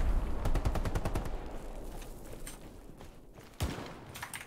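Rapid bursts of automatic gunfire in the video game Hell Let Loose crackle in quick succession, then a single louder shot cracks near the end, with no talking over it.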